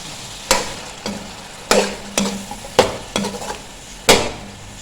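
Peas and finely chopped carrots scraped and stirred in a hot pot, with six sharp spoon strokes over a steady low frying sizzle.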